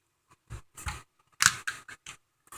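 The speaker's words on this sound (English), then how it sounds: "Then you just get your scissors." Scissors snip through a card in a quick series of about seven sharp, close cuts, with no other sound between them.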